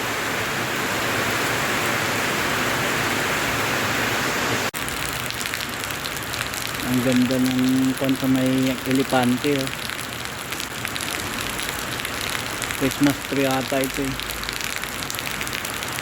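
Rain falls on the town plaza of Calinog, Iloilo, a steady close hiss of drops on surfaces throughout, with someone speaking over it in two stretches.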